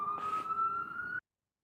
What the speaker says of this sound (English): Fucking hate sirens.